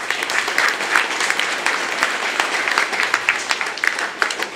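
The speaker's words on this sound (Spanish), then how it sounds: "Démosle un fuerte aplauso a los del Rosario también." Audience applause for a Rosario choir during an evening mass at a fair in Planes de San Antonio, a dense, steady burst of many hands clapping close and loud throughout.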